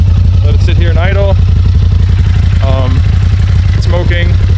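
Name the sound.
Polaris RZR XP Turbo engine starting and idling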